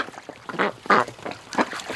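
Female breeding ducks quack in loud, raspy bursts close by, several calls in quick succession over faint background noise.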